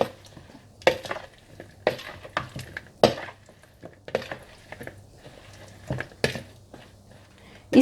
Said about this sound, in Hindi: बीफ को स्ट्रिप्स में काटने के बाद ये बीफ आप ड्रेसिंग में मिला लें।